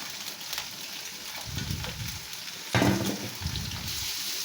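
Chopped papaya dropped into a hot pan for a Chinese-style vegetable stir-fry, with a sizzling, watery hiss that swells sharply partway through and carries on under occasional stirring.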